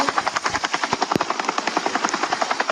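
Helicopter in a GTA roleplay video game, its rotor giving a steady rapid chopping throb that stays close and loud throughout, with one sharp bang partway through.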